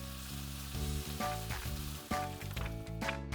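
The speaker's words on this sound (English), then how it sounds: "Now Mummy teaches Ollie how to use the frying pan safely." Food sizzles steadily in a hot pan, a soft continuous crackle beneath a light music bed, with occasional clatter of stirring.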